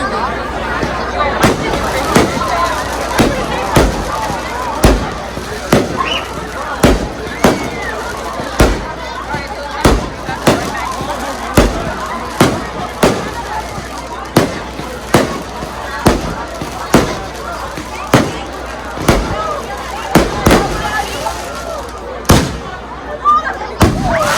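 Firecrackers and fireworks bursting outdoors at night during Eid celebrations, a steady run of sharp loud bangs every second or so over a background of crowd babble and voices.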